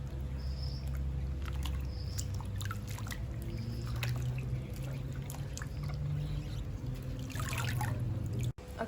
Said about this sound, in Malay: Sekarang kita akan bersihkan kailan kita dengan air bersih.